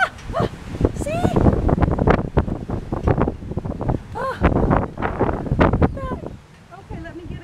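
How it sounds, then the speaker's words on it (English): Strong windstorm gusts roar and buffet the microphone in heavy rushing bursts, with a person talking and exclaiming over the wind throughout. "But super wind. Super windy."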